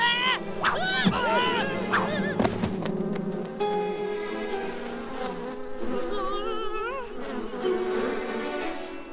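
Cartoon bees swarm out of a full hive, a wavering, layered buzz with swooping tones and musical score, while characters speak and exclaim over the droning.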